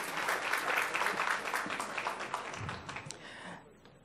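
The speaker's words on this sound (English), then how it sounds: "Let's give them a round of applause." An audience at a school board meeting applauds in a dense, moderately loud patter of clapping that thins out and fades away toward the end.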